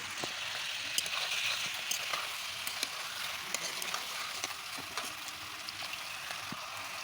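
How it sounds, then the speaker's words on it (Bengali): Pointed gourd sautéing in spice paste in a village kitchen pan, a steady close sizzle and frying crackle with scattered stirring clicks and scrapes throughout, no talking. "আমি সুন্দর করে পটলটাকে এখন কেবলমাত্র কষে নিচ্ছি"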